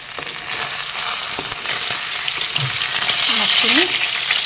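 Pieces of fish frying in hot oil in a pan, in a fish curry preparation with amita, giving a steady close crackling sizzle that swells slightly toward the end, with a few soft pan and utensil sounds and no talking.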